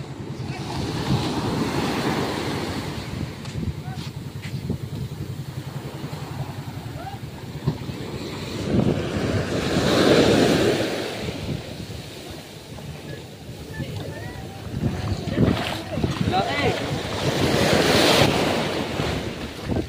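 Large ocean waves surge and crash near a small outrigger boat, a continuous roar swelling and easing with heavy wind buffeting the microphone.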